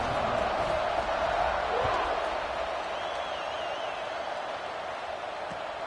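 A college football stadium crowd roars in a broad, steady wash of noise at kickoff, distant and sustained with no individual voices standing out.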